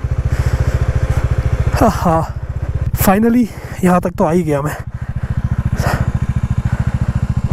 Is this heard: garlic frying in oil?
no